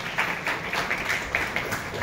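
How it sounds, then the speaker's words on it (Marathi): An audience applauds a prize winner at a jewellery exhibition, a short burst of scattered hand clapping close by, uneven and lively throughout. "अनघाताईंसाठी सगळ्यांनी टाळ्या वाजवा।"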